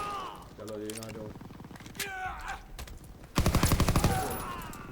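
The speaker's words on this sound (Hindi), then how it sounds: "MGs are still sweeping the beach." Machine gun fire in the World War II game Call of Duty WWII sweeps a beach in loud rapid bursts, with a heavy rattling burst near the end. In-game voices and player talk sit under and between the shots.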